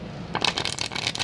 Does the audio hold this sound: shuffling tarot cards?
yes